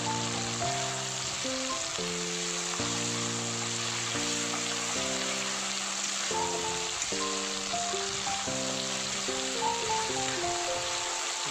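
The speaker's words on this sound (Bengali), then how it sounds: "আর এর সাথে টমেটো গুলোও দিয়ে দেবো, দিয়ে ভালো করে কষাবো।" Tomatoes and a fish head sauté in a pan with a gentle, continuous sizzle sitting beneath background music, steady throughout.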